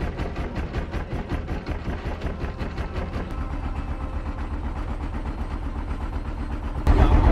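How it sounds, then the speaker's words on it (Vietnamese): Engine of a wooden fishing boat off Binh Dinh, Vietnam, chugging in a steady rapid low knocking rhythm throughout, close and loud, swelling louder near the end. "Mọi người nghe tiếng cạch không? Là vì mình đang ở trên một cái ghe đánh cá ở Bình Định."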